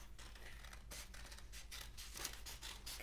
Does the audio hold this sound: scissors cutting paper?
yes